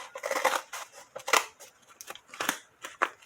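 Scissors snip through craft scraps for winter home decor, cutting them into pieces in a series of close, crisp cuts at an uneven rhythm with brief pauses between them.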